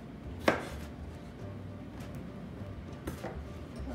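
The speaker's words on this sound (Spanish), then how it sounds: "Vamos a comenzar por partir nuestros limones." Lemons being cut with a knife on a board, one sharp close chop near the start and a fainter pair of cuts later, otherwise quiet kitchen background.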